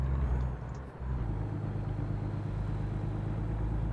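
A truck engine in American Truck Simulator drones with a low, steady rumble as it drives, close and continuous with a slight dip early on.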